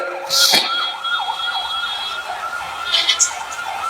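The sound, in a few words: ambulance siren passing by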